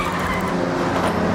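A car in the Forza racing video game skids through a drift, its tires squealing in a loud, sustained screech over a steady engine drone, lasting the whole brief moment.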